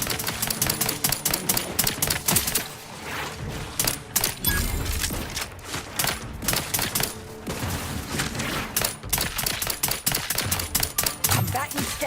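Rapid bursts of gunfire in The Outer Worlds 2, sharp repeated cracks and automatic fire filling the whole stretch, loud and close with mechanical clatter between volleys.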